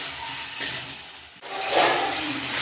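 Water poured into a pan of fried spiced potato and cauliflower, a hissing splash that swells after a brief pause, close and moderately loud, no talk.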